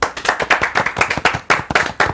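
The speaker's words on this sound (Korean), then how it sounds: "자 집중 박수 한번 칩시다" People at a Got7 Twitter Blueroom live broadcast clap together in unison, sharp close hand claps repeating in a quick, even rhythm of about four per second without pause.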